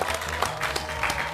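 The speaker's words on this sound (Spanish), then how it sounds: "Un aplauso." A TV studio audience on an Argentine live debate show applauds in a short, steady burst of clapping, with some background speech and hum underneath.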